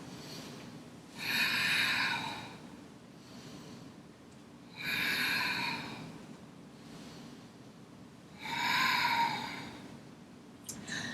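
Three deep breaths taken during a yoga flow, each a long, airy, rushing inhale or exhale lasting about two seconds, close and clear with quiet pauses between them.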